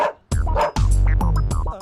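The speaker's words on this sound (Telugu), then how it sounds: "అర్జున్, ఎందుకు అరుస్తుందిరా?" A dog barks loudly nearby, several sharp barks in quick succession with a short pause between the first ones.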